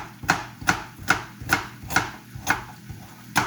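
Carrots rough chopped for mushroom soup, with eight crisp knife strikes on a cutting board falling in a steady, unhurried rhythm, loud and close, with no talking.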